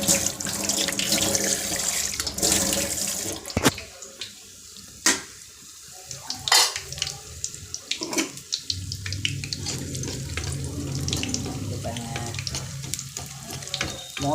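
A kitchen tap runs while hands are washed, the water splashing and gushing loudly at first, then cut off and back on in uneven bursts of trickling and spattering.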